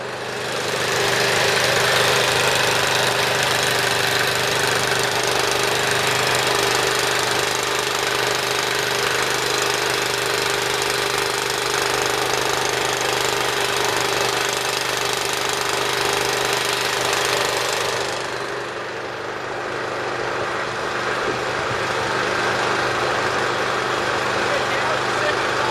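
An internal combustion engine driving a generator runs fitted with a homemade silencer, a loud, steady droning rumble with a knocking low pulse throughout that softens slightly about three quarters of the way through.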